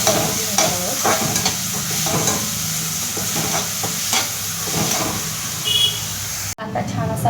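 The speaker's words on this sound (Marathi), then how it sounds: "आता लगेच कांदा छान असा आपण लाल होईपर्यंत परतून घेणार आहोत." Onion stir-fried in a pan until browned for a cabbage paratha filling, with steady close sizzling and repeated scrape-and-stir strokes throughout and a brief drop near the end.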